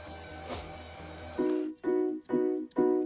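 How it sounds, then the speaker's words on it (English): An electric hand mixer whirs through butter mochi batter in four steady bursts with short pauses between, close and fairly loud after a brief quieter stretch of rumbling at the start. "you can definitely just use a hand whisk, but I have an electric one"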